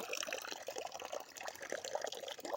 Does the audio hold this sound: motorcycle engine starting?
no